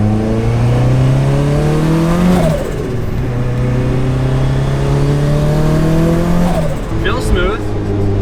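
Car with an upgraded exhaust on a test drive, its engine loud and close as it revs up through the gears in long rising sweeps, easing off between pulls.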